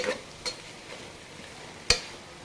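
A faint, steady sizzle of hot oil in a pan as spices are tempered for ridge gourd sambar, broken by a couple of sharp pops and crackles.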